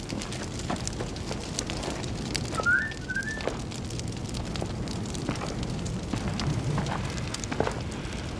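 A fire burns with a steady crackle and faint pops, while a few short bird whistles sound in the background.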